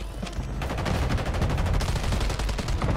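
Dense, continuous automatic gunfire from Call of Duty on Rebirth Island, with rapid overlapping shots and loud bursts filling the whole stretch, close and steady.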